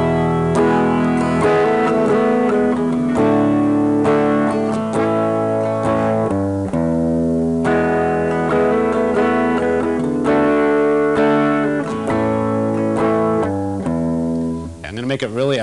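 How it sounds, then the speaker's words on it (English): A sustained, effects-heavy electric guitar plays a slow chord progression, chords ringing and changing every couple of seconds, loud and alone. "I'll play the chord progression that's in my mind first."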